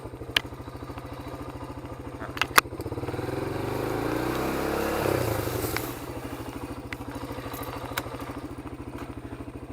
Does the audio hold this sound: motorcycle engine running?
yes